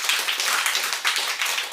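Students in a classroom clap together in a short, brisk round of hand claps, dense and fairly close, with no talking over it.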